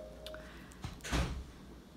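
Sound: door opening and closing as someone leaves

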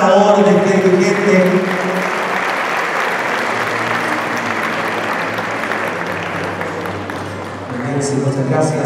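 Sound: applause at a community leaders' dinner

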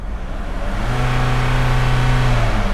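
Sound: car engine revving

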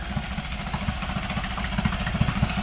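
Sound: Storm F6 engine running after first start

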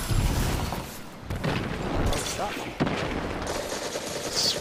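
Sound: rocket launcher firing in Destiny 2 video game

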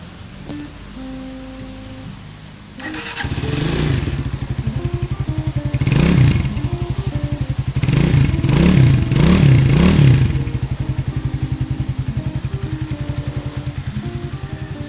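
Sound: GPX Legend 200 motorcycle engine running

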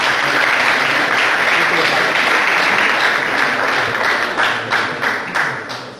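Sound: audience applause

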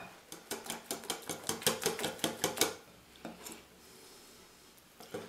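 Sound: whisking beer batter with a whisk

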